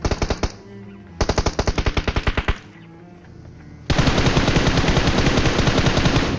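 Automatic gunfire in PUBG Mobile rattles in rapid bursts, a short burst, a longer burst, then a sustained loud stream of shots, close and punchy with no speech.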